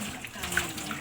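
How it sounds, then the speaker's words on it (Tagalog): Water runs into a bucket at home, a brief, steady splashing flow with a voice faintly present. "Sahod tubig. Sahod timba."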